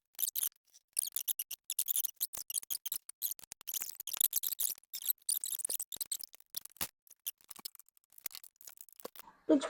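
Tin snips or shears trimming a VW Baja Bug fender, a dense run of rapid sharp metallic cuts and clicks, close and loud with brief gaps.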